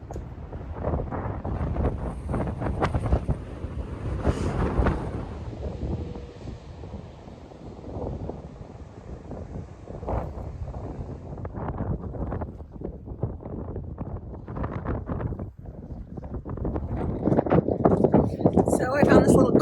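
Strong wind buffets the microphone at the Oregon Dunes, loud and gusty for the whole stretch and rising to a heavy roar at the end.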